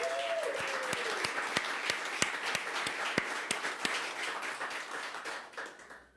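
An audience at a Pride Month celebration claps in sustained applause, with some loud, distinct individual claps ringing out before the clapping fades away at the end.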